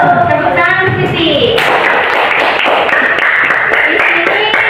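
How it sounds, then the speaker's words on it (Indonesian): A classroom of students bursts into quick, dense clapping after a teacher's talk, loud and close, continuing for several seconds while voices carry on beneath it. "Tepuk tangan, Siti."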